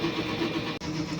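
A sublimation printer runs a nozzle test, giving a steady close mechanical whir and hum with a faint repeating tonal pattern and one brief dropout near the end.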